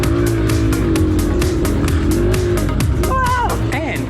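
A small Honda CRF150F four-stroke dirt bike runs an enduro cross-training race lap, its engine droning steadily and close with rhythmic revs, plus a whining pitch sweep near the end.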